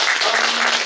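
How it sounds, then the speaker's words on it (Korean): Applause from an audience at a film screening talk honoring an actress, a brief, dense burst of clapping heard near and full throughout. "박수 안 주실 건가요?"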